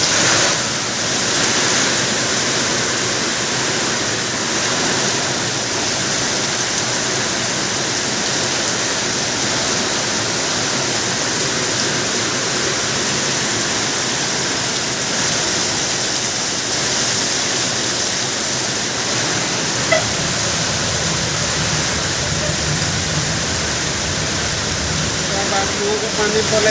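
Heavy rain pours down in a steady, dense hiss that holds at an even loudness for the whole stretch, close and continuous with no breaks.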